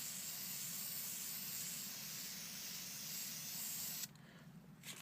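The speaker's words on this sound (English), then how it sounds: "lightly, 8 to 12 inches away, lightly spray it back and forth" Spray paint hisses steadily from a can held about 8 to 12 inches from a chalkboard and swept back and forth. The close, even hiss stops abruptly near the end.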